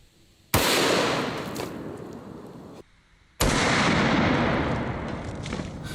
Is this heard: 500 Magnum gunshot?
yes